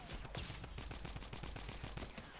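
Rapid assault rifle fire in the Fortnite video game, a fast regular burst of sharp shots that continues steadily throughout without talk.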